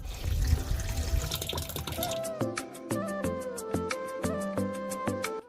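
Tap water gushes into a washing machine drum in a loud, noisy pour, then stops, leaving a run of sharp, regular clicks and ringing tones close by.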